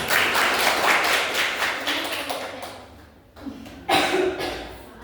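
Students in a classroom clap their hands for a classmate, a burst of clapping that fades, a short pause, then a second brief round of clapping.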